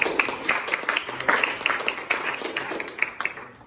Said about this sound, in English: Give applause, class.